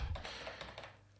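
Keystrokes on a computer keyboard while C++ code is being typed, a short burst of clicky taps close by, with no voice over them.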